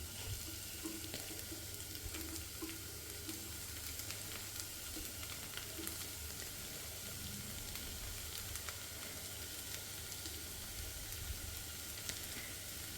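Paneer fries with tomato in a pan, a steady, even sizzle of oil and moisture crackling continuously at close range, fairly quiet, with no talking.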